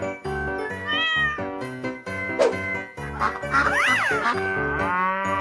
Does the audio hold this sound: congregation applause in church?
no